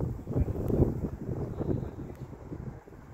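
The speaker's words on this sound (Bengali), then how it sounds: "অসম্ভব হাওয়ার দাপট।" Strong gusty wind blows in London, buffeting in uneven low surges close to the microphone, with no one talking.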